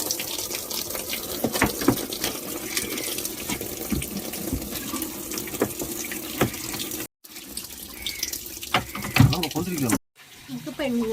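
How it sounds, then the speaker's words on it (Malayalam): Tap water runs steadily into a washing machine drum being cleaned, a close splashing gush with knocks and clatter, briefly cut twice. "പിന്നെ നമ്മൾ അകം ക്ലീൻ ചെയ്യാൻ വേണ്ടിയിട്ട് വെള്ളം തുറന്നു വിട്ടേക്കാണ് കേട്ടോ."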